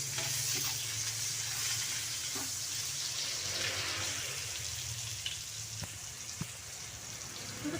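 Garlic and onion sautéing in a pan for pork kare-kare, a steady close sizzle with occasional light scrapes and taps of a stirring utensil, no talk.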